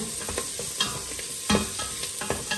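Food sautéing in a pan sizzles steadily up close while a utensil stirs and scrapes it every so often, with no one talking.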